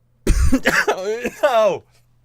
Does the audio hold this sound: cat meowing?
no